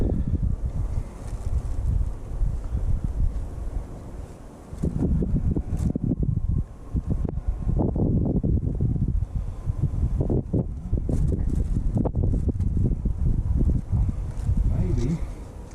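Strong gusty wind buffeting a microphone outdoors beside a 1984 Ford LTD Crown Victoria under restoration, a steady low roar with surging gusts, alone without speech.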